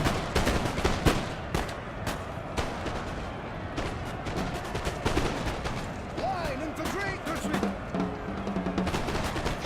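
Musket volleys crackle through a Napoleon Total War battle, with dense, irregular gunshots and distant booming fire layered over constant battlefield din, while someone talks over it.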